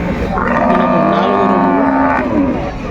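A Holstein cow at a cattle market in Palamaner lets out one loud, close, drawn-out moo that rises and then falls away.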